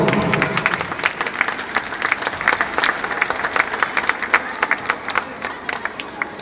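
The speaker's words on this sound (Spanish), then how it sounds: "para quien pido un fuerte voto de aplausos" An audience at a Christmas carol contest in a basilica cathedral applauds with brisk, rapid clapping that stays lively and fairly close throughout, with no talking over it.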